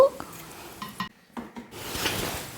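Ground coconut paste going into an ivy gourd curry pot, heard as a few clinks and scrapes of a metal vessel and utensil, then a soft wet gush and a low simmering hiss.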